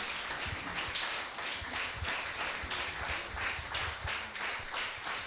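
A church congregation at a Sunday service applauds to welcome a pastor, producing a dense, continuous patter of many hands clapping together, steady and moderately distant, with no speech over it.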